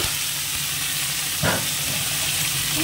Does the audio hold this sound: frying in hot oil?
yes